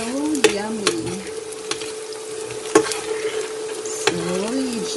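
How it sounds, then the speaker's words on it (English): A big head of chopped garlic sizzles in hot olive oil in a pan while being stirred, with a steady close frying crackle punctuated by several sharp clinks and scrapes of the utensil. "We have just added our garlic, and this is one big head of garlic that I have chopped."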